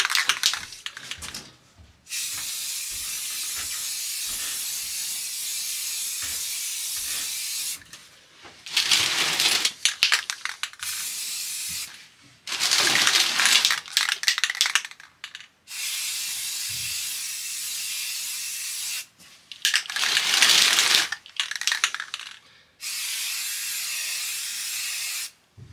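Aerosol spray paint hisses onto a Corsair Hydro Series XG7 GPU water block in light coats, a series of close, steady bursts of several seconds each separated by short pauses and faint clicks.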